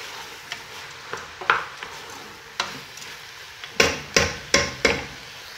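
A spoon scrapes and knocks against a cooking pot as tomato paste is stirred for Moroccan harira, several sharp taps spaced irregularly, with a quick cluster of knocks near the end.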